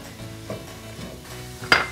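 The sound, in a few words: vegetables sauteing in a pan over medium heat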